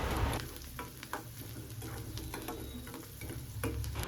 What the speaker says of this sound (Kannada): ಇವಾಗ ಈರುಳ್ಳಿನ ಸ್ವಲ್ಪ ಬಾಡಿಸ್ಕೊಳ್ಳೋಣ, ಅಂದರೆ ಗೋಲ್ಡನ್ ಬ್ರೌನ್ ಬರೋವರೆಗೂ ನಾವು ಸ್ವಲ್ಪ ಹುರ್ಕೋಬೇಕಾಗುತ್ತೆ